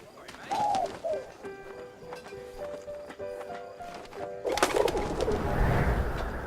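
A pigeon being sent off in the video game 11-11 Memories Retold: soft cooing over a low background, then a sudden loud rush of flapping wings as the bird takes flight.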